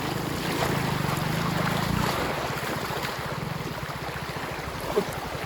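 Floodwater rushing through a filled village well and river, a steady loud roar of turbulent flow with wind buffeting the microphone throughout.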